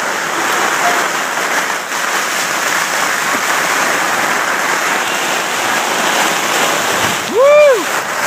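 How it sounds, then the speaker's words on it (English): Hard rain at a jamboree makes a dense, steady hiss throughout, fairly loud, with a brief whistle-like sound near the end. "It's raining hard at the Jamboree."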